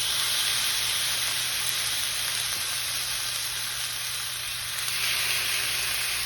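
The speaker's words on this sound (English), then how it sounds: "we're just gonna drop our steak in here" A flat iron steak sears in a hot pan, giving off a loud, continuous hiss and sizzle that stays even from start to finish, close up with no talking.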